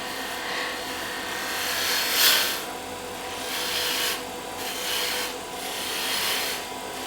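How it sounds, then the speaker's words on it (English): A round nose scraper cuts into wood spinning on a lathe while a baseball bat is turned inside out, giving a continuous loud rasping scrape that swells and eases in several passes. "So most of this gets ground in with a round nose scraper"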